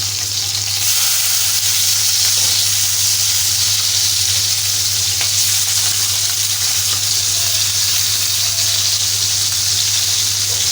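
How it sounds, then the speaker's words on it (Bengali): Fish fry in hot oil until crisp and reddish, a loud, dense, continuous sizzle that holds steady throughout with no talking. "আজকের মাছগুলো আমি একটু বেশি লালচে করে ভাজবো, মানে কড়া করে একটু ভাজবো।"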